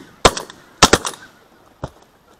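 Shotguns fire during a spring goose hunt outdoors: four sharp, loud reports, a single, then a quick pair, then one more after a pause.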